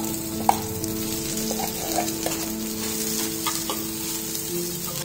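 Potatoes (aloo) tumble into a hot oiled pan with curry leaves and are stirred for vada pav filling, a steady close sizzle and frying crackle running throughout with scraping stir strokes and a sharp clack near the start.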